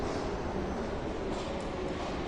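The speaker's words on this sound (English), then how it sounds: "The next tram slid in along the elevated rail" A tram arrives along an elevated rail, giving a faint, steady rumble and hiss of wheels and motor that runs unbroken through the moment.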